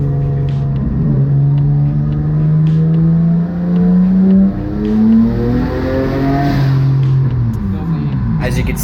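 A Mazda MX-3 making over 700 wheel horsepower howls through a dyno pull, its engine note rising and falling in pitch over sustained loud revving. Someone speaks over the roar.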